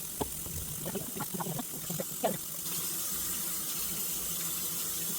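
Mulberries being rinsed under a running kitchen tap, a steady broadband rush of water into a sink with a few brief splashes and knocks early on, close and continuous throughout.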